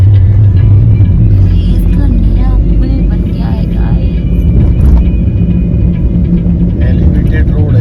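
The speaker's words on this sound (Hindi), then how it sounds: "फिर से हम लोग ट्रैफिक में फंस गए" Inside a car stuck in traffic on the Gwalior elevated road in India, a constant low engine and road rumble fills the cabin, with passing vehicles faintly audible while people talk.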